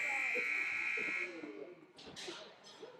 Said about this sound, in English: The buzzer sounds, ladies and gentlemen.